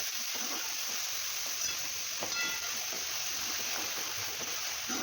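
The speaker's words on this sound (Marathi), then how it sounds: "यात फोडणीमध्ये आपण ही मटकी साधारणतः दोन ते तीन मिनिट छान अशी फ्राय करून घेऊया" Moth beans frying in hot tempering oil for a spicy misal, giving an even, continuous hiss at moderate volume with no break.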